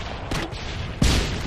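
Gunfire in Call of Duty Modern Warfare 2 during an online Headquarters match: two sharp bursts of shots, a short one early and a louder, heavier one about a second later, over a busy game background.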